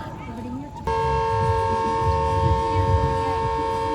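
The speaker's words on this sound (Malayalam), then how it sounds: "ഫാക്ടറിയിൽ നിന്ന് സൈറൻ" A loud, sustained factory siren wail sounding at eight o'clock holds a steady pitch after a brief lower start, with rumbling traffic and faint voices underneath.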